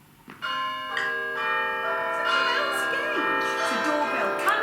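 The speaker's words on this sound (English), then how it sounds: "a doorbell. Come in, it's open." Ringing bell tones layered into a sustained chime, with people talking underneath.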